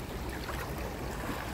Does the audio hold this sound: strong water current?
yes